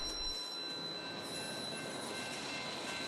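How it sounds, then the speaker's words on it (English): BNSF Vestas wind turbine support train rolling northbound on the joint line in Monument, Colorado, a steady broad rumble of wheels and cars with faint high squealing tones, continuous and fairly distant. "The BNSF Vestas wind turbine support train was captured traveling northbound on the joint line in Monument, Colorado"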